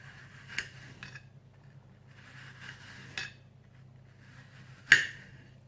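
A large kitchen knife cuts an apple into thin slices for an apple tart, producing a few sparse taps and clicks of the blade on the board, the last one sharper and louder, over a faint low hum.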